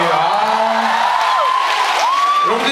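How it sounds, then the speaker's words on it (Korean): A Korean fan event crowd cheers and whoops loudly, with applause mixed in, a steady dense roar running the whole time under a drawn-out voice. "일단 박수 한번 보내주십시오, 여러분"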